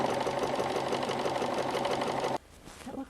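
A sewing machine runs a steady straight stitch on a vintage-style caftan, a continuous close, even mechanical whir that cuts off abruptly near the end, leaving a quiet room.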